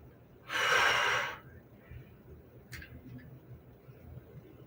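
A single long, breathy exhale during a yoga side-bend stretch rushes out close and loud, followed by quieter inhaling and faint room noise.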